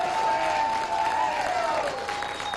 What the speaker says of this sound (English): let's big round of applause for the Mustangs